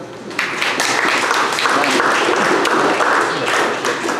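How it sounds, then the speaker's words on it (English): Applause from a church audience at a retreat, a steady, dense wash of hand claps that swells in after a brief quieter start and carries on loudly throughout. "Let's have a round of applause for Mario."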